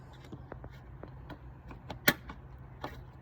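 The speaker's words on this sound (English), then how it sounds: "Hear that pop?" A single sharp plastic trim clip pops loose on a 2019 Chevrolet Silverado Custom Trail Boss, amid faint scattered clicks and creaks of trim being pried, close and otherwise quiet.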